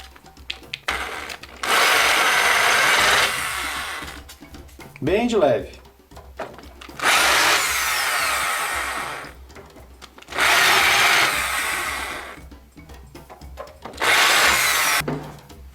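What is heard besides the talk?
electric drill deburring a metal sheet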